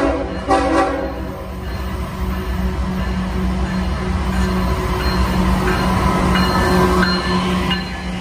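HO scale model locomotives descend a mountain grade in dynamic braking on a layout railroad, a loud continuous rumble and drone with tonal whine running throughout.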